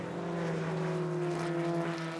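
Historic racing cars at Goodwood Revival, heard from a distance going through St Mary's, a sustained engine drone with two steady tones and a soft rising and falling whoosh, fairly faint.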